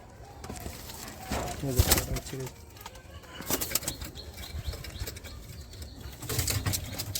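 A released pigeon's wings flap in several loud bursts of beating, close by, with soft cooing and a voice talking in between.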